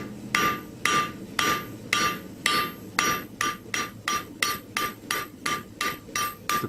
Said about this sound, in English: Now I'm going to draw it out with the point of the hammer.